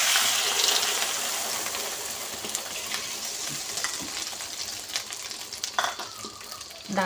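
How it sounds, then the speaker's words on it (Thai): Eggs fry in a pan on a gas stove, a dense crackling sizzle with scattered pops and spits, loud at first and easing slightly, with no one talking. "อาหารง่ายๆด้วยจ้ะทอดไข่"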